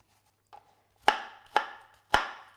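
An onion is diced on a cutting board: one light tap, then three sharp, evenly spaced knife chops with short ringing decays, close and clear with no talking.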